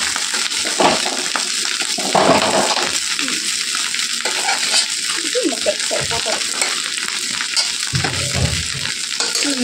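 Egg-coated rice frying in a pan for chicken fried rice, a loud continuous sizzle broken by frequent spatula scrapes and stirring clatter, heard up close without speech.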